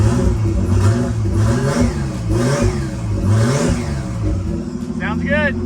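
A Nissan 240SX coupe's freshly installed engine runs just after its first start, a loud, steady, close idle with repeated revs rising and falling and some mechanical clatter.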